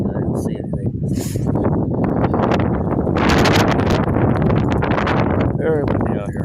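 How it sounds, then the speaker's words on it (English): Strong night wind buffets the microphone in a steady, loud roar with gusting rustle, while dirt blows around during an outdoor walk with a dog. "Very windy out here."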